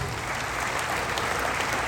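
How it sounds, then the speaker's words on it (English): Audience applause for teachers during an acceptance speech at a Salesperson of the Year event, a steady dense wash of many hands clapping that fills the whole stretch at moderate loudness. "give them a round of applause"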